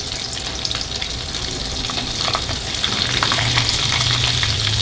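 Butter melting and frying in a hot pan for pav bhaji, a loud, dense sizzle that grows slightly stronger as it goes, with faint clatter in the background.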